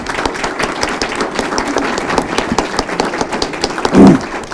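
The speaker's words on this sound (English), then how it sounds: "give her a round of applause" Audience applause at a county board of education candidate forum, with dense, fairly close clapping that continues at a steady level and a brief low thump near the end.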